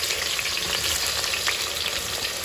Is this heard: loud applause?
no